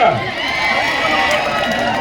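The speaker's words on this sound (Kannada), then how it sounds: "ಒಂದ್ಸಲ ಚಪ್ಪಾಳೆ ಕೊಡಿ" Kabaddi match crowd in a final between BPCL Mumbai and Audience Factory Delhi, a dense, steady roar of cheering and clapping that stays loud for the whole two seconds.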